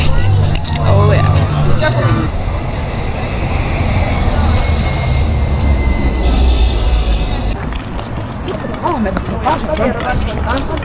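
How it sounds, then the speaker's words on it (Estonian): A Stockholm tram rumbles along a city street close by, with a steady low mechanical roar and rattling over about eleven seconds while people chatter in the background. "Seal on meie trammikene."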